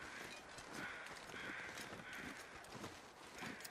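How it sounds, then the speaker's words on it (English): Crows caw softly and repeatedly in the quiet wilderness of The Long Dark, faint and distant against a low background hiss, with no other sounds. "I'm seeing crows suddenly, which weren't here before"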